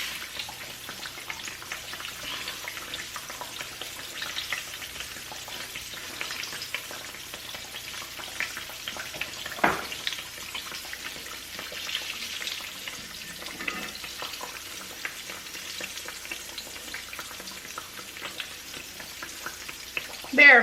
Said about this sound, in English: There are few sounds in the world that are better than the sound of something frying.